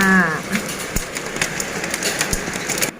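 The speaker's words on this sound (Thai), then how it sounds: "มาครั้งแรกก็เจอพายุเข้าซะเลย ฝนตก" A storm in Laos brings steady rain with dense broadband hiss, a few sharp clatters and knocks over it, and the rain keeps going throughout without voices.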